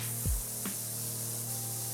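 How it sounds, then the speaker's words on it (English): Pressure washer spraying in the Power Wash Simulator 2 video game, a steady broadband hiss running throughout with a couple of brief shifts in tone, heard alone with no talking. "We'll start spraying this off."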